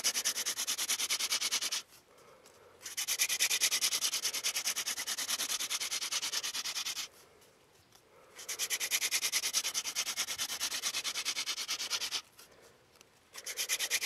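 A wooden spindle is worked on a wooden hearth board for friction fire, giving a fast, rhythmic rubbing rasp in three long bouts with brief pauses between them, close and steady with no talking.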